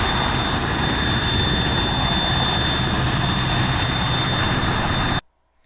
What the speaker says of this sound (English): So it is finding a helicopter pad over here to land on.